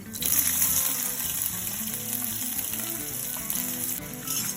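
Chopped onion frying in oil with cumin, dry chilli, bay leaf, cinnamon and cardamom for chicken do pyaza, giving a steady, close, even sizzle throughout.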